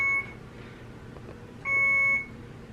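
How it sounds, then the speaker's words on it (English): A phone alarm beeps in two bursts, a short one at the start and a longer one partway through, with steady tones over a quiet room background. "I don't know what's beeping. I don't know why I'm beeping. Oh. My alarm."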